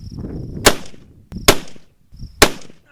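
Three loud, sharp rifle shots from a Weatherby Compact Hunter .308 firing Remington ammunition, each a sudden crack with a short decaying tail, spaced roughly a second apart with faint shuffling between them.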